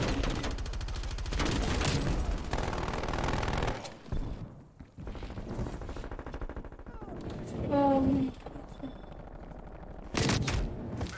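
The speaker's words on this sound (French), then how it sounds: "Tourelle automatique ennemi activé." An enemy automatic turret fires in the multiplayer shooter Black Ops Cold War, with rapid bursts of automatic gunfire repeating in short volleys, broken by a few pauses and mixed with other game effects.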